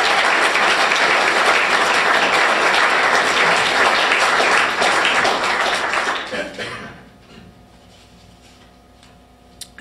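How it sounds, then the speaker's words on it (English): Loud audience applause for a lecture speaker at an evening talk, dense clapping filling the first six seconds before fading out into a quiet room with a few scattered claps. "let's hear a big round of applause for Johnsen Schmaling."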